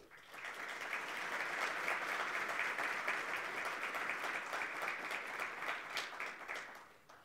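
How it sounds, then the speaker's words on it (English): An audience at the Namibia National Green Hydrogen Conference gives a sustained round of applause, rising quickly, holding steady and thinning out after about seven seconds, faint and distant. "give this country and her people a beautiful, warm, and gracious round of applause"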